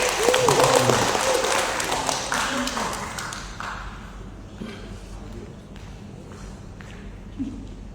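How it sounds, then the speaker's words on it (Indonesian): Audience applause at a cultural congress in Cilegon, Indonesia, starts loud and dense, mixed with voices, then thins out and fades to scattered claps and faint murmur. "Beri tepuk tangan yang meriah."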